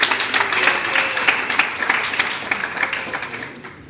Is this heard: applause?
yes